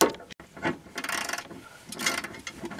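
A wrench cranks a stubborn bolt loose beneath an RV seat during a swivel seat installation, giving several close, uneven ratcheting and rubbing bursts separated by brief pauses.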